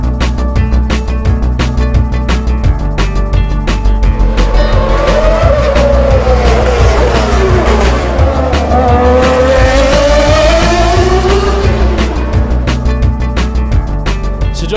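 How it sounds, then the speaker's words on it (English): Formula One race cars on practice day at the Monaco Grand Prix, a loud continuous engine roar with rising and falling pitch sweeps as cars accelerate and pass, with tire squeal mixed in throughout. "F1 practice day, we can hear the cars in the background there."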